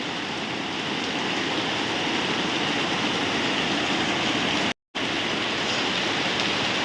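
Heavy rain pours down in a constant dense hiss that holds steady throughout, broken only by a brief moment of silence near the end.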